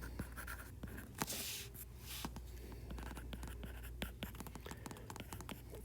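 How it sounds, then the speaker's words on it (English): A pen scratching across paper in quick, uneven strokes and taps, close and fairly quiet, with faint breathy voice sounds underneath. "I'm going to write what happens in these little spots right here"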